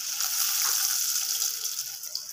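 Onion pakoras in batter and breadcrumbs go into hot oil with a steady, close, bright sizzle that swells slightly and then settles.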